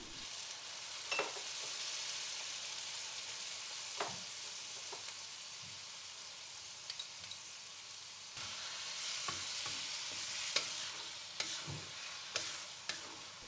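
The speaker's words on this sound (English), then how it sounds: "Add in all the other ingredients and mix well, including my favorite laoganma chili jam." Eggplant stir-fried with Laoganma chili jam in a wok sizzles steadily, with scraping stirs and light clinks of the spatula at intervals, close and alone without speech.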